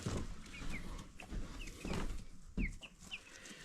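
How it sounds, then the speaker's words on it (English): Chickens cluck close by inside a barn, with several short calls and soft clucks scattered over a few seconds against a quiet background. "Hello, chickens."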